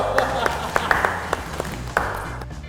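A game-show studio audience applauds the winning red contestant of a Monopoly quiz episode, with scattered, fairly sparse claps rising and falling over a low background hum and faint tones.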